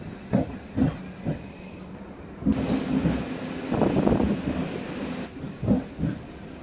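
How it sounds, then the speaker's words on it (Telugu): A MEMU passenger train rolls into a station with a rumbling, clattering run of wheels and a brief rise of squealing noise, heard from close by with no talk. "వేజన్ల స్టేషన్కి మన ట్రైన్ చేరుకుంది"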